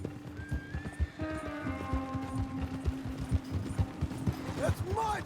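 A horse in Red Dead Redemption 2 gives a long, close whinny over rhythmic clip-clopping hooves, with another short neigh near the end and speech-like sounds mixed in.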